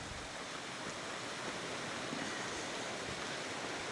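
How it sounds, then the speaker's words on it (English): South Fooses Creek on the Colorado Trail rushes in a steady, broadband wash of flowing water, close and unbroken, with no voices. "Here's South Fooses Creek"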